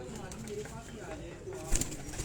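Pigeons coo on a rooftop in Kasur, their soft calls blurred by steady background noise, with a brief flutter-like burst near the end.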